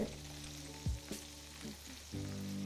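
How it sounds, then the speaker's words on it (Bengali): Paneer pieces fry in hot oil for methi malai paneer, a close, steady sizzle with brief scraping stirs from a utensil and no talking. "এবারে একটা দিক যতক্ষণ একটু লাল লাল হয়ে ভাজা হচ্ছে ততক্ষণ এটাকে ভালো করে ফ্রাই করে নিন"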